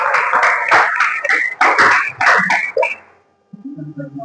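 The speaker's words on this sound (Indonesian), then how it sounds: "Tepuk tangan juga." A group of people clapping hands together in a classroom, a loud rhythmic patterned burst of about a dozen claps lasting three seconds, then silence before a brief voice speaks.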